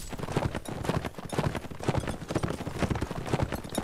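Horses gallop in Mount&Blade: Warband, a dense, steady drumming of many hooves in quick overlapping clip-clop beats, loud and continuous throughout, with faint voices underneath.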